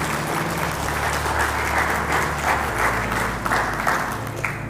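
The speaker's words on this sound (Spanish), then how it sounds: "Un aplauso a nuestro pastor" A church congregation applauds its pastor, sustained steady clapping from many people in a reverberant hall, with a low hum or music underneath.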